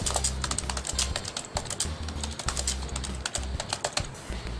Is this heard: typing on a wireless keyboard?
yes